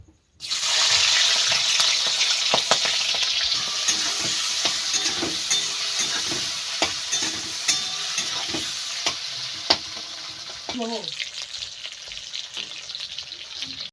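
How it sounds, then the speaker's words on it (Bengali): Shrimp fry in hot white oil in a wok with a steady loud sizzle throughout, punctuated by clicks of stirring and a brief scrape near the end. "এইবার মাছগুলো দিয়ে ভেজে নেব।"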